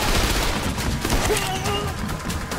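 Gunfire rattles through a Trepang2 firefight, with dense overlapping shots filling a short burst at fairly loud level.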